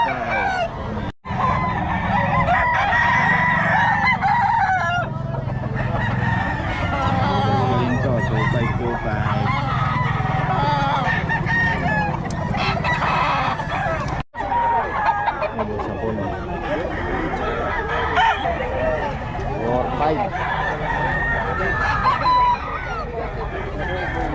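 Lemon Sweater gamefowl roosters crow repeatedly at a busy livestock market, loud and close, with clucks and other fowl mixed under constant chatter from people.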